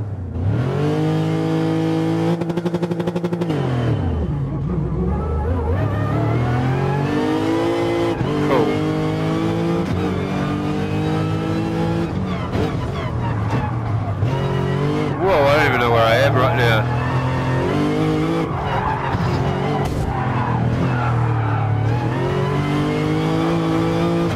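A Lexus RC F GT3 prototype '16 race car, rated at about 700 horsepower, roars through GT Sport in VR with a loud engine rising and falling through shifts and revs. Faint tire squeal comes in, and someone talks and laughs over it.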